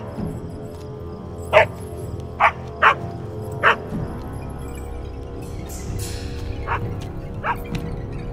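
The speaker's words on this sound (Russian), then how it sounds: "Там собака." A dog barks in short, sharp bursts, four close together and then a couple more spaced out, heard at moderate distance over a quiet background.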